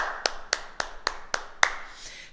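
A small martial arts class applauding itself after a kata, six or seven sharp, evenly spaced claps in a steady rhythm, close and distinct against a quiet room, then trailing off.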